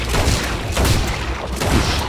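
Gunshots fired at grizzly bears in Red Dead Redemption 2, a quick series of heavy booming shots in rhythmic succession, loud and close with rumbling echoes.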